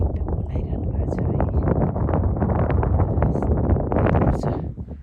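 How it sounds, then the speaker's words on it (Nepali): Cold wind sweeping across a high mountain trail above the snow line near stupas, a steady broadband rush buffeting the microphone throughout, with people talking over it. "चिसो हावा आएको छ"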